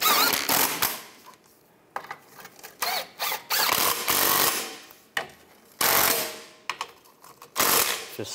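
Ratchet or tool clicks while tightening catalytic converter bolts under a 2011-2015 Chevy Cruze, heard as close, irregular bursts of rapid clicking separated by short pauses, with no talk.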